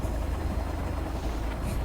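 Helicopter flying in the survival video game Sons of the Forest, with a steady, loud low rotor and engine drone running throughout without a break.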